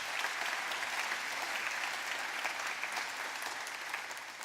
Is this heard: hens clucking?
no